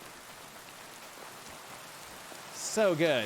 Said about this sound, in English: I just want to sit back, relax, and enjoy the rain. God, I love the rain.